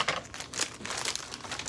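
Plastic clothing packaging crinkling and rustling as it is cut open, an irregular run of close, bright crackles with no speech.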